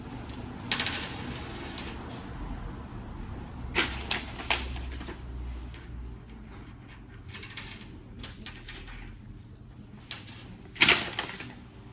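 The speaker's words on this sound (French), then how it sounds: "je vais donc sortir de mon enveloppe les 10 jetons." Small plastic counting tokens are pulled from an envelope and set down one by one, giving a series of light close clicks and taps in irregular clusters over quiet background, with brief paper rustles and no talk.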